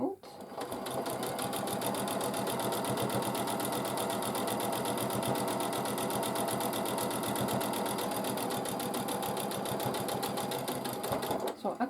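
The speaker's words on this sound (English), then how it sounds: "Lift the foot, move the zipper out of the way, and let's sew the lining" A sewing machine runs continuously while sewing a lining, a fast, even mechanical rattle close by that holds steady for about eleven seconds before stopping.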